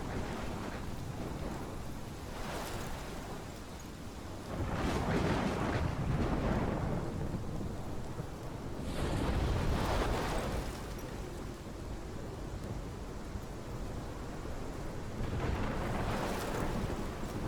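Storm in Life is Strange, with steady heavy rain and repeated deep rolling thunder swells that rise and fall several times, loud and enveloping, no voices.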